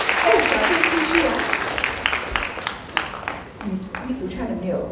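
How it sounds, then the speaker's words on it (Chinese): Clapping from a university lecture audience carries on while a host speaks over it, the applause thinning and growing patchier as talk comes to the fore. "哎，掌声继续啊！"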